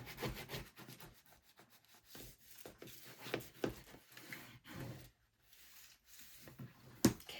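Quiet, close rubbing strokes of a burnishing tool pressing down a paper signature fold in bookbinding, in short irregular passes with pauses, ending in a sharp tap.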